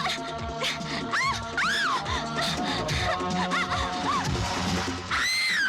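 A woman named Preeti screams in a Bollywood film scene, with sharp, rising cries that break through a dense, loud mix of voices and music.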